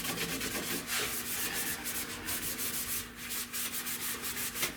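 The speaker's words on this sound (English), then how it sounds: "I just like to DA it with the 320" A DA sander fitted with 320-grit paper works the door jamb of a 1970 Buick Wildcat during body prep, giving a steady, close, continuous abrasive rubbing hiss with a faint constant hum and no talking.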